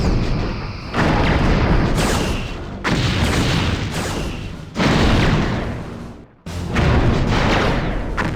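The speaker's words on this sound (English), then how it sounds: "Lining up rear torpedo tubes." Photon torpedoes fire and strike a starship in the space combat game Star Trek Bridge Commander, four loud, long roaring blasts with short gaps between them, dense and booming, with no voices.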